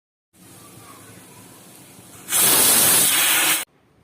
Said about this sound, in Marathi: आता आपण कुकरचं झाकण लावून याला चार ते पाच शिट्ट्या देऊन घ्यायच्या आहेत कुकरला